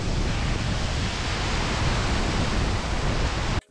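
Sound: waterfall in a South Indian jungle

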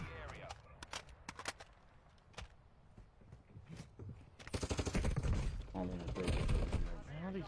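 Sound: gunfire in a first-person shooter video game

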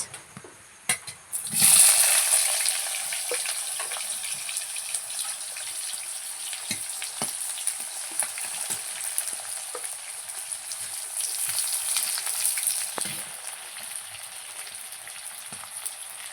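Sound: chopped onion frying in a pan

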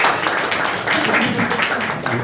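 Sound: applause

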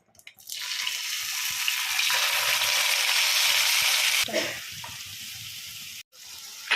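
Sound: oil and masala frying for raw banana curry

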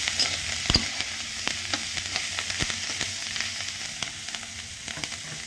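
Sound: green chilies being roasted in a pan

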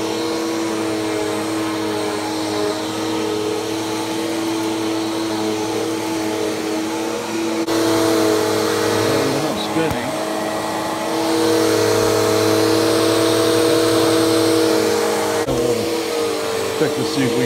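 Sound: Bissell vacuum cleaner running

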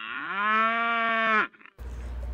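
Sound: baby cows mooing

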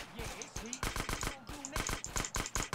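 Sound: Micro Uzi gunfire in the video game GTA San Andreas

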